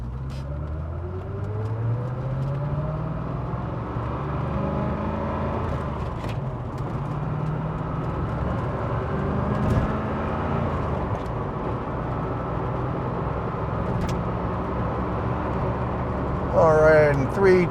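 A 1990 Corvette ZR1 at Celebrity Cars Las Vegas drives off, its engine a steady low rumble that rises and holds throughout, with a brief squeal near the end.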